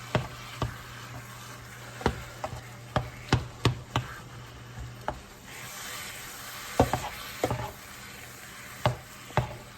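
Vegan picadillo stirred in a frying pan with a plastic mix and chop tool: irregular sharp taps and scrapes against the pan, close and crisp, over a soft low sizzle.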